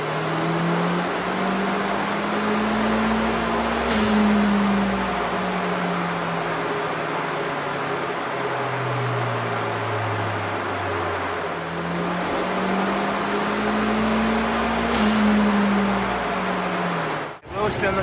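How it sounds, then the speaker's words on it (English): A car fitted with a Maxspeedingrods GT2871 turbo accelerates on the road in repeated rising pulls, engine drone swelling and falling, with a high turbo whine heard from inside the cabin. "give you an idea of what the turbo sounds like and how responsive it is"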